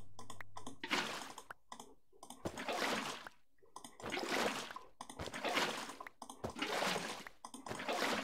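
A water bucket being emptied and refilled in modded Minecraft (Project Ozone 3) to make clay by hand: a run of repeated splashy whooshes, each about a second long, with short clicks between them.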